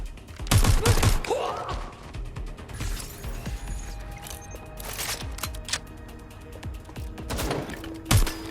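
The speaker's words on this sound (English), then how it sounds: "Taking fire!" Gunfire in the action game Watch Dogs: Legion: several sharp bursts and single shots scattered unevenly, some loud and close, mixed with mechanical clicks and background game noise.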